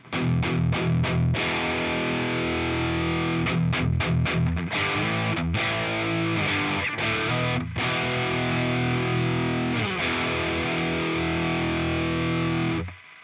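Heavily distorted high-gain electric guitar on the bridge pickup, playing alone and loud, with quick muted chugs up front, then long sustained chords broken by brief stops.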